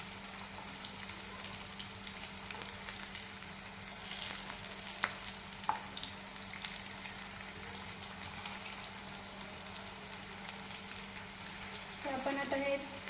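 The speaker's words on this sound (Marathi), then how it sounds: "एका साईडला हे भाजत आले की आपण आता ते पलटून घेऊया. दुसऱ्या साईडनं पण व्यवस्थित भाजून घेऊया." Corn cutlets shallow-frying in a pan, a continuous moderate sizzle with occasional crisp pops, swelling louder near the end as they are turned.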